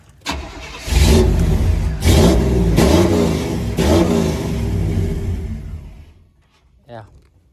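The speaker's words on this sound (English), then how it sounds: "It is running so rich that it is not even idling." A car engine running rich and struggling to idle revs in several loud surges, then falters and dies away near the end, leaving near silence broken by one brief faint sound.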